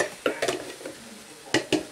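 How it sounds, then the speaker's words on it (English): Vegan stir-fry of soya, broccoli and asparagus sizzling in a pan, with sharp utensil scrapes and clinks against the metal as it is stirred. "everything's frying up nicely"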